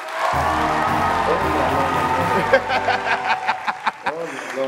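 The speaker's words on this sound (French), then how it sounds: "applaudissez encore!" Studio audience applause on a French-language talk show, rising from the last second or so into a burst of claps and cheers under ongoing voices and laughter.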